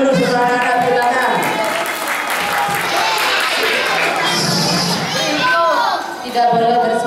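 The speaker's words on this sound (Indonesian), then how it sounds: "Ayo tepuk tangan dulu semua anak-anak, tepuk tangan" Children at a Quran school gathering clap their hands amid lively chatter, with an adult voice and children's voices talking and shouting over the clapping throughout.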